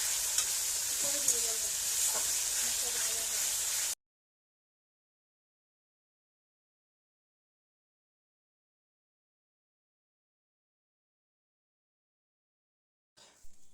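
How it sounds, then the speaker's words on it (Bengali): Spice paste for chickpea ghugni fries and is stirred in oil, a close, steady sizzle with scraping strokes for about four seconds, then silence. "মশলা থেকে যতক্ষণ না তেল ছেড়ে দিচ্ছে ততক্ষণ আমরা মশলাটাকে কষিয়ে নেব"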